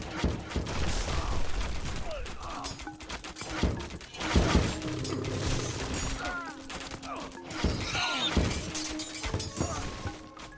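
A siege barrage from Petrobolos catapults in the strategy game Age of Mythology, a dense run of crashing impacts and shattering hits in irregular bursts, with battle sounds layered throughout and no one speaking.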